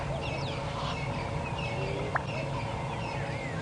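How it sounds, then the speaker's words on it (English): A black-bellied bustard on a sunrise safari drive gives a single short, sharp pop like a champagne cork, standing out once against a steady dawn chorus of chattering birds. "that definitely confirms that it's a Black Bellied Bustard"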